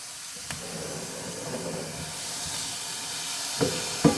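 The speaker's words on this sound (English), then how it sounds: "And we want to cook this, just fry this." Onions and peppers fry in a skillet with a steady, moderately loud sizzle and hiss, broken by a few faint knocks of a utensil against the pan.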